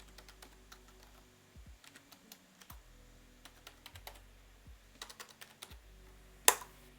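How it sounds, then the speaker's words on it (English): A password being typed on a computer keyboard: irregular bursts of light, close key clicks with short pauses between runs, ending in one sharper, louder keystroke. "once you type in your password, it's going to ask you to change it again"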